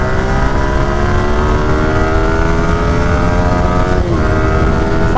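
A motorcycle or small engine screams at high revs near 12,000 rpm, a loud sustained whine held close with a brief dip and shift in pitch near the end.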